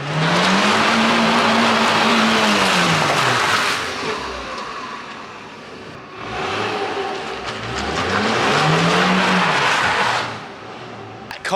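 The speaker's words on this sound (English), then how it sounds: "That car is so bad at handbrake turns." A Ford Fiesta tears around a yard doing handbrake turns, its engine revving hard and rising and falling in pitch as it slides, close and loud, easing off briefly between runs.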